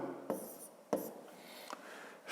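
Numbers being written by hand, heard as a few short, faint scratchy pen strokes with brief pauses between them, close-up in a quiet room.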